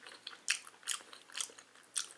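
Someone chews raw fish sashimi close up, with four soft, wet, crunchy bites spaced about half a second apart and quiet between them.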